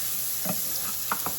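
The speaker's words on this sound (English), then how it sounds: "So I'm just doing yellow onions. And I'm going to soften them for a little bit." Yellow onions sizzle softly in a pan as they soften, a steady low hiss of frying punctuated by a few faint scrapes of stirring, with no talking.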